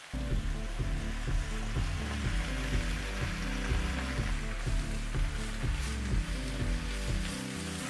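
Loud, steady sizzling and crackling of spinach and garlic frying in a hot pan with a touch of water, continuous and close, with no voices.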